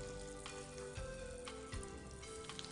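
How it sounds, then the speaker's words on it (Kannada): Asafoetida tempering in hot oil while a chutney is prepared, giving a soft, steady crackling sizzle with a few sharper pops, quiet and close with no voices. "ಚಟ್ನಿ ರುಬ್ಬಿದಾಯಿತು, ಈಗ ಒಗ್ಗರಣೆ ಮಾಡೋಣ. ಎಣ್ಣೆ ಕಾದಿದೆ"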